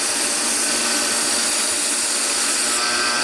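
A belt grinder hollow grinding a knife blade, with the belt running on a contact wheel, gives a steady, loud, broadband abrasive hiss that holds unbroken for the whole stretch, close and alone with no voices.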